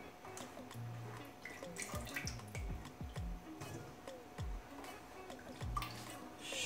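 Water from soaking grapes drains through a colander in a soft, continuous trickle broken by irregular drips and plops, close and quiet, with no talking.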